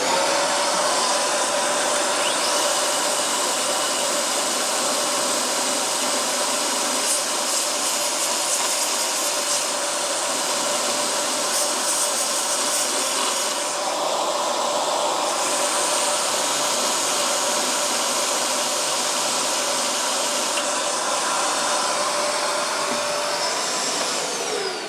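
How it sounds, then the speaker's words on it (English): A vacuum cleaner set up to catch filing dust while connecting rods are worked, droning continuously for the whole stretch with a steady loud whine and hiss, close by, with no talk. "I've got a vacuum cleaner set up to catch the dust because I don't want to breathe it,"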